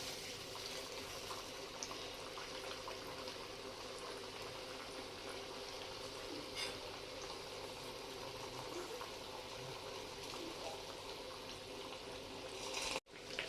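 Sabudana and potato puris deep fry in hot oil with a steady, soft bubbling hiss, even and unbroken throughout, with a brief clatter right at the end.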